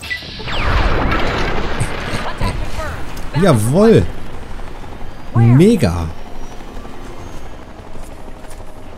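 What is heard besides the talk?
helicopter exploding in a video game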